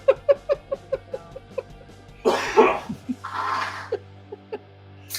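A person coughs repeatedly up close, a rapid series of short dry coughs followed by a harsher throat-clearing burst and a few more single coughs.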